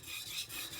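Kitchen knife stroked back and forth on a 400-grit diamond whetstone, a close, continuous gritty rasp in short repeated passes, no voices.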